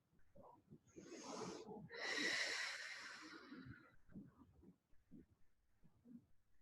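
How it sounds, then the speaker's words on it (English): Slow, deep breaths come in and out during a Pilates stretch with a foam roller and band, soft and close, with one longer airy exhale in the middle. "Nice deep breathing"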